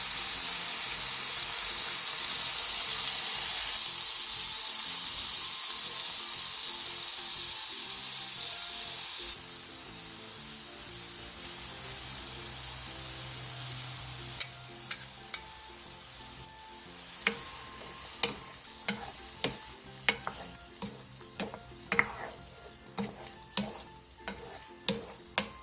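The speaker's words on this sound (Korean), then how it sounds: "한번 바글바글 끓여주세요" Soy sauce, soju, corn syrup, sugar and sliced garlic come to a boil in a pan, with a steady broad hiss of sizzling that later thins out as sharp clicks and taps of stirring cut through.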